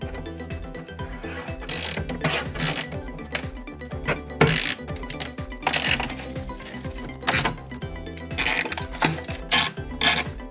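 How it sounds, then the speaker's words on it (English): A mini ratchet bit driver clicks in quick ratcheting bursts while backing out Torx screws on a BMW i3, close and crisp, with metallic rattles and pauses between turns. "I'm using this mini ratchet bit driver that I got on Amazon"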